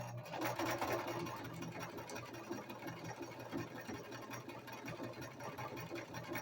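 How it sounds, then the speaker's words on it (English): A sewing machine stitches fabric for girly head gear, a steady close mechanical whirr with rapid needle chatter that runs continuously and evenly throughout, with no talking. "So you always remember when you start sewing that you back stitch to lock that stitch in."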